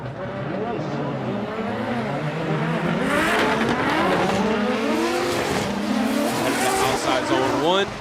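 Team Cusco drift cars 77 and 774 battle around Ebisu Circuit West Course in Fukushima, their engines revving hard and tires squealing continuously and loudly while a commentator talks over the action.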